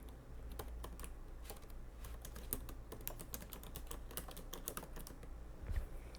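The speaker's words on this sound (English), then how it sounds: "So I'm just going to type in my text right here." Computer keyboard keys clack in quick, irregular bursts of typing, close and fairly quiet over a faint low hum, with no talking.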